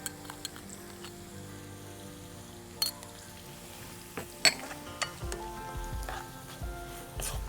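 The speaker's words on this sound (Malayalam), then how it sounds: "സബോള ഒരു മീഡിയം ഫ്ലെയിമിലിട്ടിട്ട് നമുക്ക് സബോള ഇത് വഴന്നു വരുന്ന മാത്രം മതി" Onions with curry leaves and a little salt sauté in a pan over a medium flame for a Kerala fish curry, giving a soft, steady sizzle with occasional utensil clinks and stirring scrapes, heard close but quiet.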